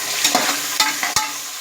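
Onions sautéing in a pan for chickpea biryani, a steady sizzle broken by a few sharp scraping stirs of the spoon.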